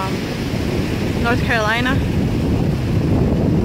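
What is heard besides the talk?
ocean waves and wind at Wrightsville Beach, North Carolina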